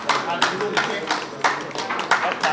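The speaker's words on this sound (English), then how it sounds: "Please a round of applause for him." Applause at a 53rd birthday celebration, rhythmic rounds of clapping in repeated bursts, fairly close and loud, with a voice talking alongside.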